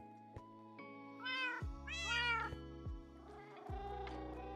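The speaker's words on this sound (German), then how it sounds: "Aber was machen wir jetzt mit so vielen Katzen?" Several cats in the Minecraft CrazyCraft mod meow in quick succession, with clear, close, rising and falling cries over a steady game music backdrop and no talking.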